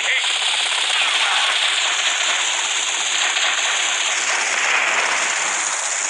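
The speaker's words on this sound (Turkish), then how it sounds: "Helikoptere siz ateş edin." Sustained automatic gunfire aimed at a helicopter in GTA Vice City: a dense, loud, unbroken rattle of rapid shots lasting about six seconds.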